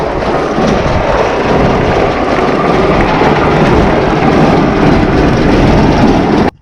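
A T6 tractor engine runs loud and steady right next to the listener during potato irrigation work, a dense continuous rumbling drone that cuts off abruptly at the end.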